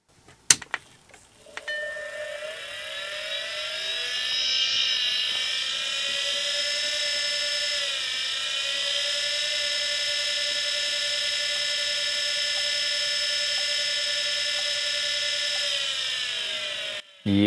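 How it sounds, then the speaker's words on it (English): Failing hard drive with a head crash, held close to a microphone, gives a steady high-pitched whining drone after a few initial clicks, sustained and fairly loud with slight pitch shifts, ending with a click. "It really sounded like to me that that thing had some kind of a head crash."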